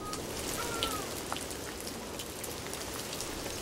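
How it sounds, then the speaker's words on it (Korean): Steady rainy-season rain in rural Ethiopia falls on surfaces in a dense, even hiss with scattered individual drops, constant throughout and fairly close. "하늘은 시도 때도 없이 비를 뿌립니다"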